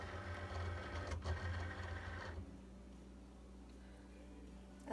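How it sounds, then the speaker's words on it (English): A Cricut cutting machine works through very thick cardstock with a close, steady mechanical whir and buzz of the carriage, which drops to a quieter hum about halfway through. "Then I'm just going to go ahead and send it through my machine."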